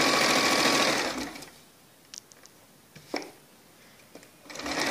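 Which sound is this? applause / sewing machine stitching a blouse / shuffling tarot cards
sewing machine stitching a blouse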